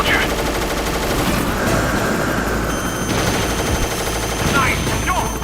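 Rapid bursts of gunfire crackle continuously in Metal Gear Solid, loud and close, with automatic fire layered over a steady background hum and some speech.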